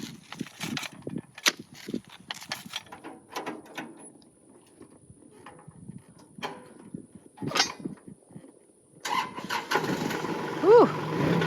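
A farm tractor starts up during work on wooden livestock fence posts. Scattered knocks and clunks come first, then the engine catches into a steady running rumble for the last few seconds.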